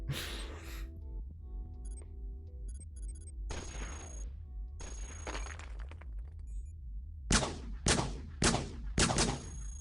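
Enemy robots in the Cogmind video game fire at the player in sharp, crackling bursts, scattered at first and then a quick series of four loud blasts, with electronic game tones between them.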